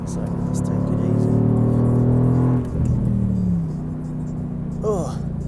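A Mercedes-AMG GT R engine drones steadily from inside the car on the Nürburgring Nordschleife, its pitch falling after a downshift into a corner, as someone talks throughout over the hum.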